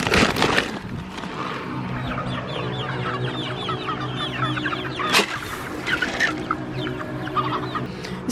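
Six-week-old meat chickens on a homestead cluck and chatter steadily as a flock, with busy overlapping calls close by and a brief louder squawk partway through; no one speaks.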